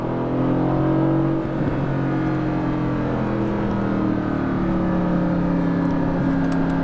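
A Mercedes-AMG GT S in race mode, its engine roaring loudly and steadily as it pulls after a downshift, the pitch rising through the gears, heard from inside the cabin with no talking.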